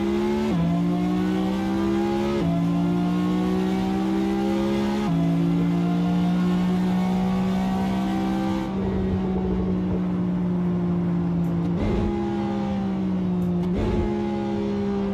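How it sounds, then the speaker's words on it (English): A Ferrari revs and accelerates in the racing game Assetto Corsa, with a loud, steady exhaust note that climbs in pitch through repeated gear shifts and drops briefly at each change. "I like the sound of the exhaust."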